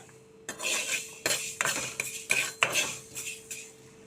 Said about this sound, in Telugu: ఆవాలు మెంతులు అయితే కళాయిలో వేసి కొంచెం మంచి స్మెల్ వచ్చే వరకు చక్కగా మాడకుండా వేయించుకోవాలండి దోరగా